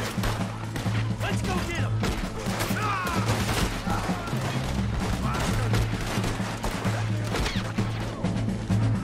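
Gunshots crack in a Red Dead Redemption 2 shootout, rapid irregular reports and impacts in a dense loud exchange, with a speaking voice in between.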